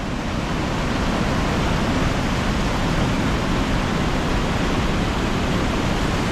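Water rushes hard through the open gates of the Varkhede Londhe barrage in a dense, constant roar that stays loud and unbroken throughout, with no voices.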